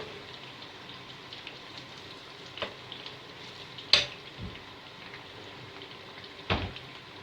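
Eggplant for moussaka frying in a pan, a faint, steady sizzle heard alone, with a few sharp clicks and knocks of utensils or the pan breaking through at intervals.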